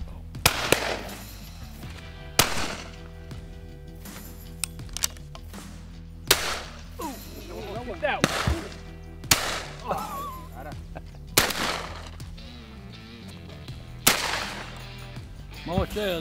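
Shotgun blasts during a dove hunt ring out repeatedly, sharp loud reports spaced irregularly through the field, some in quick pairs, with a few faint voices between shots.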